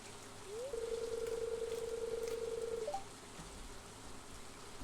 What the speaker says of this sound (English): I'd like to come listen to the rain when I'm feeling overwhelmed.